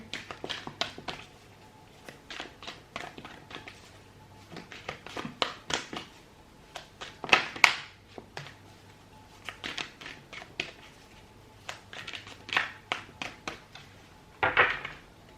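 Tarot cards are shuffled by hand in repeated quick bursts of riffling and tapping, close and crisp, with short pauses between rounds.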